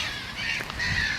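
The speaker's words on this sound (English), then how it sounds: "Seagulls are getting a bit crazy" Gulls calling in a loud, continuous squabble near a fishing lake, harsh overlapping cries filling the moment with a couple of stronger bursts toward the end.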